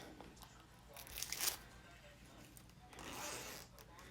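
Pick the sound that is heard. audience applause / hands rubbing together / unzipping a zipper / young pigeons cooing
unzipping a zipper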